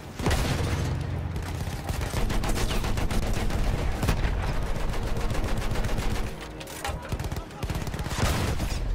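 Heavy WWI battlefield gunfire in Battlefield 1, near-constant rapid machine-gun and rifle fire with occasional louder booms, dense and loud with voices barely audible beneath.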